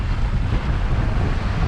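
Sea waves and strong wind at an Australian beach make a loud, continuous roar of surf with gusty rumbling on the microphone and no voices.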